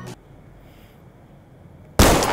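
Gunshots fire from a gun in the VR shooter ZeroCaliber. One sharp report clips the start, then near silence, then a second loud, close blast rings out and decays.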